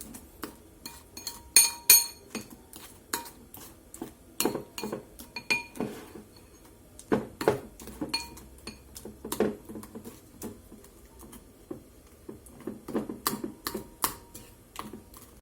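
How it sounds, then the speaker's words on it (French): A utensil crushes microwaved frozen fruit with sugar in a bowl, making irregular clinks and scrapes against the dish, fairly quiet and close, in bursts with short pauses and no talking. "on commence à écraser nos fruits"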